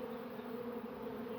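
Honeybees hum around beehive supers in a close, steady, low buzzing drone lasting about a second and a half.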